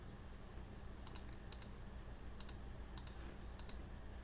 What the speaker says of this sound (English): you can use your arrow keys to nudge it into place